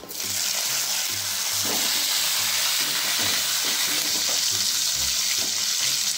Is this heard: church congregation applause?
no